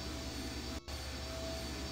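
Steady engine hum from the I Have No Mouth, and I Must Scream game, a constant low drone with a faint whine that drops out for an instant, then resumes evenly.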